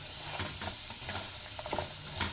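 Jackfruit seeds fry in a pan, giving a close, steady oily sizzle with light scraping clicks as they are stirred.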